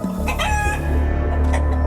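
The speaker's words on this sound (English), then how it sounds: "a farmer named Lynn Butler hears chickens being attacked in the middle of the night." Chickens clucking and squawking close by, a rooster-like call rising over a steady low hum.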